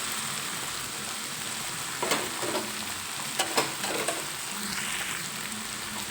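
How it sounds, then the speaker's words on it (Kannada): Boiled, mashed potatoes being added to a pot of tomato sambar and stirred, with soft scraping and dull clatters of a spoon against the pot over a steady bubbling sizzle, close and fairly quiet. "ನೆಕ್ಸ್ಟ್ ಇದಕ್ಕೆ ಬೇಯಿಸಿ ಸ್ಮ್ಯಾಶ್ ಮಾಡ್ಕೊಂಡಿರೋ ಅಂಥ ಆಲೂಗೆಡ್ಡೆನ ಆ್ಯಡ್ ಮಾಡ್ಕೋಬೇಕು."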